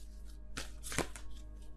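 Tarot cards riffle and slap together in the hands in two quick bursts, a soft papery shuffle against a low steady hum with no talking.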